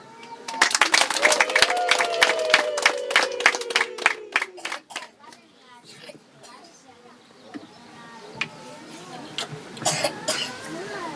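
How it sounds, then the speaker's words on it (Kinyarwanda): Wedding guests break into a burst of rhythmic, sharp clapping that lasts several seconds, then it fades into crowd murmur, scattered claps and voices. "Nagira ngo abasangwa mumfashe tubahe amashyi abashyitsi tubonye."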